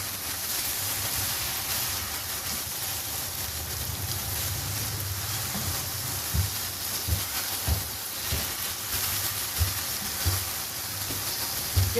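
Eggplant and potato pieces sizzling in hot oil for Punjabi aloo baingan, a steady loud frying hiss with soft stirring knocks from a spoon in the pan.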